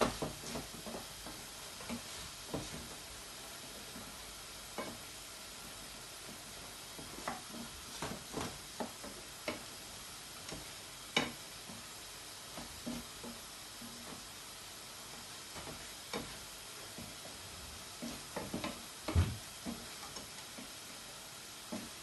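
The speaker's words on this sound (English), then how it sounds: "I usually give it just 3 little squirts and then stir it in." Tomato puree is stirred into a sizzling pan of chilli con carne or bolognese, giving a soft, steady frying hiss broken by irregular scrapes and clicks of the spoon, fairly quiet and with no talk.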